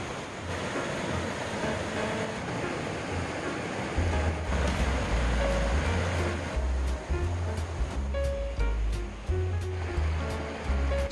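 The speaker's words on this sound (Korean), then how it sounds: "폭포 위쪽 모습입니다." Yongchu waterfall, a 30 m falls in Yongchu valley near Yongchusa temple in Hamyang, South Korea, heard from above the falls: a constant broad roar of rushing water, joined midway by heavy low thuds and rumbling surges.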